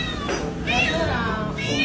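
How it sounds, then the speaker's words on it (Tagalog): A cat stuck or caught somewhere meows in two or three drawn-out, strained cries, close and fairly loud, with a person talking around them. "pusa ang naipit."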